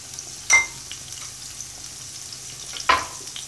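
Ginger and garlic sautéing in a pan for chicken wings, with two brief, distinct stirring scrapes over a quiet, low background.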